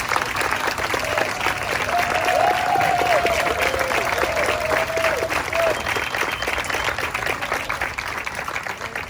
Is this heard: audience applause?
yes